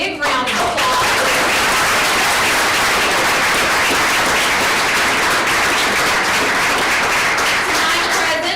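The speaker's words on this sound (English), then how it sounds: "So if we can give them a big round of applause." A crowd at a county school board meeting gives a big round of applause for the girls' team, regional champions and state qualifiers; loud, dense clapping swells in quickly and holds steady throughout.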